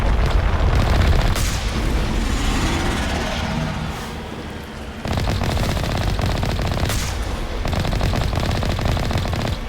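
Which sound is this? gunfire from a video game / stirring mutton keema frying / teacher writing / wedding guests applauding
gunfire from a video game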